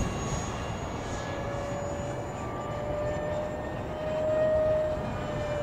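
A model airplane with twin exhausts drones steadily in the air over a model airfield, a constant engine whine that swells slightly as it passes, with no talking.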